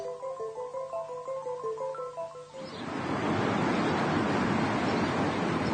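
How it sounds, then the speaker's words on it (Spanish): A fast, turbulent mountain stream rushes in as a loud, steady broadband roar, following a few seconds of soft melodic music. "Consideremos, por ejemplo, este veloz arroyo de montaña."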